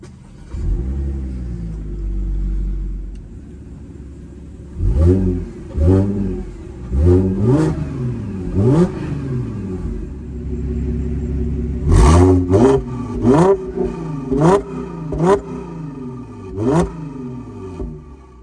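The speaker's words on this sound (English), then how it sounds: "it had push button start, so we'll just put foot on the brake, hit the bottom button here" A B8 Audi S4 Prestige is fired up by push-button start and its engine is blipped repeatedly, rising and falling revs from a steady idle, loud and close with no talking.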